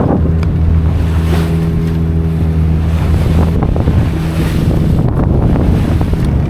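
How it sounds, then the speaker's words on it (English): A Cape Dory 28 sailboat runs its motor at full throttle into wind and waves, a loud steady engine drone with water splashing and wind buffeting the microphone throughout. "I've got the motor on full throttle right now. Into the wind, into the waves."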